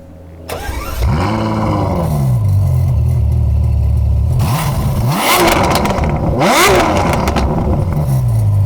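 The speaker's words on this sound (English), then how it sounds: "That, friends, it are a very loud sound coming from a standard exhaust." A Ferrari F12 TDF V12 on its standard exhaust fires up and revs in several sharp, loud rising and falling sweeps, heard up close with no talking.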